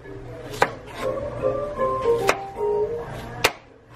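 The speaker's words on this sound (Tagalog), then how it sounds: "Kagayat ako ng ampalaya." Bitter melon (ampalaya) being chopped with a knife on a cutting board in a home kitchen, with several crisp knocks at an uneven pace over a faint background hum and no talking.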